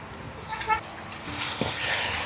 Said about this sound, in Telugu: కొంచెం లైట్గా వాటర్ పోసుకుంటానా